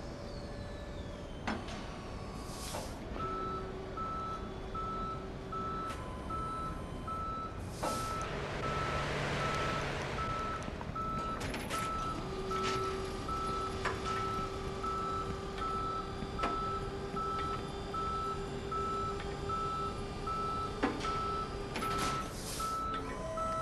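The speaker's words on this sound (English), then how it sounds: "Can you send a tow truck to my current location, please?" A tow truck in a police simulator game backs up with a steady run of repeated electronic reversing beeps over a low engine rumble, joined by brief hisses and mechanical clunks, with no voices.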